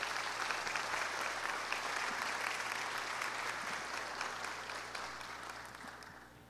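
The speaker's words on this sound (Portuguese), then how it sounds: "Se você quiser se manifestar, pode aplaudir." Steady applause from a church congregation at a Seventh-day Adventist Saturday service, moderately distant, gradually fading toward the end.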